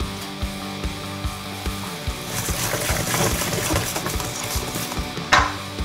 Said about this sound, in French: On va maintenant crémer ensemble le sucre glace et le beurre ramolli